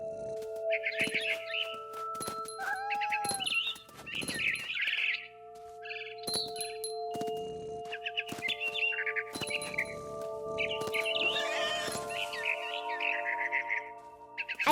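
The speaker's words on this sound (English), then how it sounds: "Then I heard chirping outside my window. It was a barn swallow going back to her nest." Barn swallow chirping in the video game What Remains of Edith Finch, a string of quick bright chirps and twitters repeating in short bursts over a steady tonal hum, fairly close and clear.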